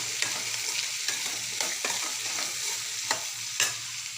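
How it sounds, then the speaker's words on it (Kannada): Chickpea masala being stirred in a pan, a steady close sizzle overlaid with repeated sharp scrapes and taps of the spoon at an uneven rhythm. "ಆಮೇಲೆ ಚೆನ್ನಾಗಿ ಮಿಕ್ಸ್ ಮಾಡಿ"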